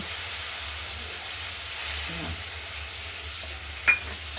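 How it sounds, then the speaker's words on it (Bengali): Spice paste with turmeric frying in a pan for a Bengali fish curry with potato and tomato, a steady close sizzle and hiss throughout, with a brief clink of the utensil near the end. "মশলাটা আমরা দিয়ে দিলাম হলুদ সহ কষানোর জন্য।"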